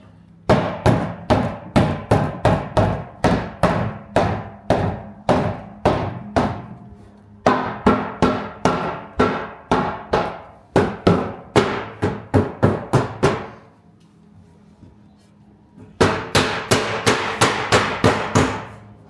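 Repeated hammer-like thunks as boards of a Northern Leisure 6' panoramic barrel sauna are tapped into a circle, steady rhythmic blows in quick runs with a short pause near the end, close and loud, no talking.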